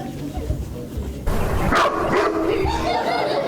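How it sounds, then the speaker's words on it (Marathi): A dog gives a few yips and barks close by while people talk and laugh, short bursts rising over voices in the background. "अरे कुत्रा आहे"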